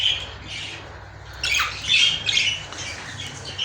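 Budgerigars in a home aviary squawk in sharp, scratchy bursts, starting faint and then swelling into a louder cluster of overlapping calls close by, with no voices.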